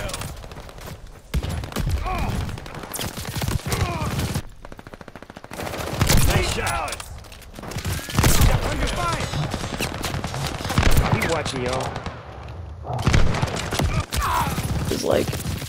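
Sustained automatic gunfire and repeated shots from the World War II shooter Call of Duty: Vanguard, loud and dense in bursts across the whole stretch, with brief lulls and game voices talking beneath.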